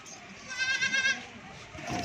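A goat for sale, among other goats and kids, gives a single wavering bleat, close and clear over a quiet background with a little faint talk.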